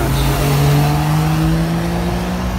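A Ferrari GTB engine revs loudly and close by, a sustained, powerful drone whose pitch climbs slightly through the rise in revs, with no talking.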